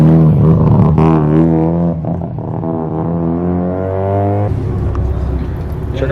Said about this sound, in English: That Huracan sounds insane.